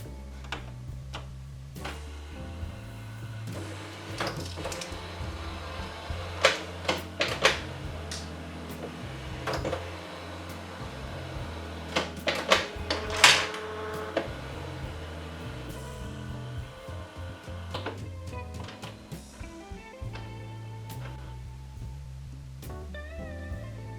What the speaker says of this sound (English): I set up the new printer in this video and turn it on for the first time.